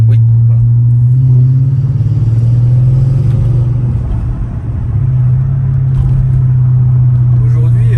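Big naturally aspirated Mercedes V8 from a CLS 500 rumbles steadily at a low idle, close and loud throughout, with people talking over it.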